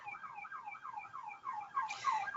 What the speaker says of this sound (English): sorry if everyone can hear a siren going by